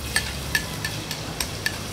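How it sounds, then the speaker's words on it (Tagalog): Garlic frying in a pan while being stirred, with a steady close sizzle and regular stirring clicks about every half second. "Golden brown na yung ating bawang."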